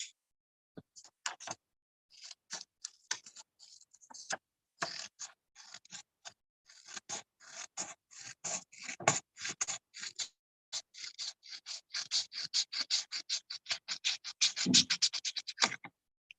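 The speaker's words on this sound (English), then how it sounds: "So this way I will create the line and I'll cut this line out." Scissors snip through paper in quick, close, crisp cuts, starting sparse and then speeding into dense rapid snipping, with no talking over them.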